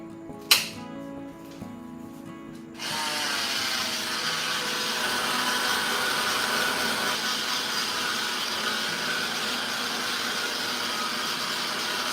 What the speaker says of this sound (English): I will just use hand dryer just for a while, not too much